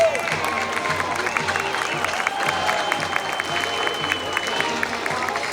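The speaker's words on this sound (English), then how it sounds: "Give them a louder applause" A crowd applauds and cheers at a Veterans Day parade in San Jose, steady dense clapping with scattered voices and whistles sustained throughout at moderate distance.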